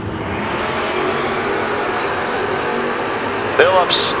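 Drag race cars roar down the strip at a Door Wars drag racing event, a steady loud engine drone throughout with a brief sharper whine near the end, while an announcer's voice runs over it.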